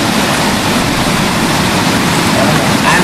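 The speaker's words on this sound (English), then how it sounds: "such as small streams escape and meet at a point to become a great Pochera waterfalls, is what you see in the video right now." Small streams at Pochera waterfall in Telangana, India, merge and pour down as a loud, continuous roaring rush of water with no voices.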